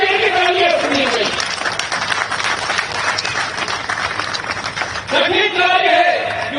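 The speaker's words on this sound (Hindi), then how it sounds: "तालियों की गड़गड़ाहट से इनको धन्यवाद अर्पित किया जाए" Sustained applause from an audience at the opening ceremony of a drone fair in Gwalior, a dense wash of clapping with a voice speaking over it at the start and again near the end.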